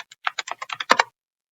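A burst of about a dozen quick, crisp keystrokes on a computer keyboard, close and clear, ending in a couple of firmer taps before silence.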